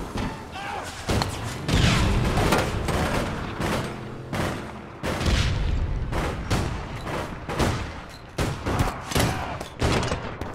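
Rapid bursts of gunfire and heavy thuds from the online shooter game APB Reloaded, loud and repeated in dense volleys with short gaps, mixed with occasional voices talking over the action.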